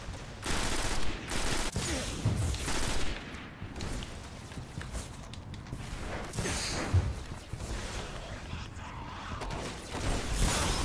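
Rapid rifle fire in Destiny on PS4 sounds in dense, repeated volleys of loud shots that run through the whole stretch, mixed with heavy impacts and chaotic battle noise.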